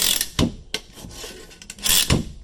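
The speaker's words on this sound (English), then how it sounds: "Run the lock and load through its motion." A Lock-N-Load Pro mechanism is worked through its motion after spring reassembly, giving a few close mechanical clacks and ratcheting clicks with scraping in between, uneven in rhythm.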